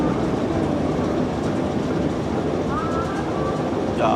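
A fairground ride train at a fair in Cossington Park, Leicester rumbles steadily with a continuous clattering roar and faint squeals of wheels, loud and close throughout, a few voices mixed in.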